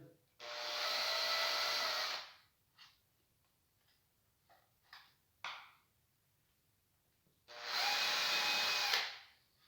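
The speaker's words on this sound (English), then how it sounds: "and then I'll do all my drilling at the same time." A power drill drives screws into wood in two loud bursts of about two seconds each, with quiet clicks and handling noises in between.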